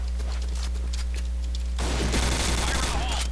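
Famas G2 rifle fire in the video game Point Blank on the Downtown 2 map: a quiet stretch with faint game sounds, then a dense, loud burst of rapid shots in the last half.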